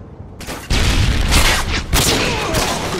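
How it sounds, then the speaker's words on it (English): Stun grenade thrown and exploding in a first-person shooter game, a sudden loud blast after a brief quiet lead-in, followed by sharp crackling bursts and ringing noise that stay loud throughout. "Throwing stun grenade."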